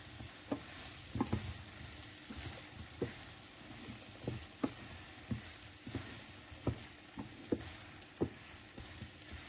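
Ginger fries in a pan with a quiet, steady sizzle, broken by regular scraping taps of stirring about once a second, with no voices.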